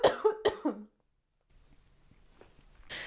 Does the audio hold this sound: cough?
yes